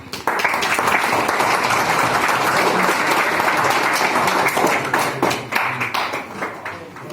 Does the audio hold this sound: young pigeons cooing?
no